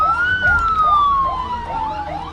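An emergency vehicle siren wails loudly nearby during a volcanic eruption evacuation drill in West Sumatra, a rising and falling electronic yelp repeating rapidly over a steady tone, with traffic rumble beneath.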